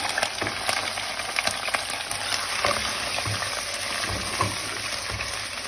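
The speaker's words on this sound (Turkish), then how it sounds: "kuyruk yağımız iyice kavruldu ve şu anda ciğerlerimizi aktarıyoruz" Liver sizzles and fries in rendered tail fat in a pan, a dense continuous crackle with occasional stirring scrapes, close up and without voices.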